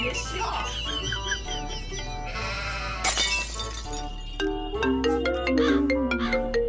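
A phone ringtone plays a melodic electronic tune, with rising and falling tones repeating over a steady low hum.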